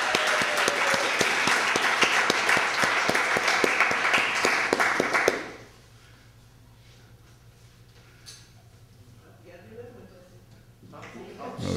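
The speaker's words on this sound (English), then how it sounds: "give Darcy another great round of applause" Loud applause from a poetry reading audience in a library, rapid clapping that fills the first half and then abruptly stops, leaving quiet room noise.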